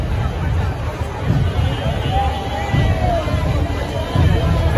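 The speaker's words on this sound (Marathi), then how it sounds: "गर्दी." A dense crowd gathers at the Chintamani Ganpati arrival procession in Chinchpokli, heard as a continuous murmur of many voices with low rumbling, and individual shouts and chatter rising through the din.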